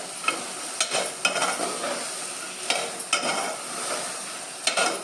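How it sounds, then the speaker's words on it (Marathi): Spoon scraping and stirring bitter field bean (kadve val) usal in a pan, a batch for five people, with repeated scrapes and a soft sizzle underneath, close and fairly loud, no talking. "आता हे आपण ढवळूया चांगलं."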